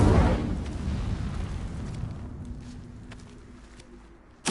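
A fire spell blast in Hogwarts Legacy: a loud booming burst at the start that fades into a long rumbling decay, followed by a sharp pop at the very end.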